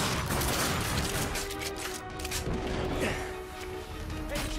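Pistol shots in the video game The Darkness 2, scattered sharp cracks buried in a dense wash of game noise and ambience, never standing out clearly on their own.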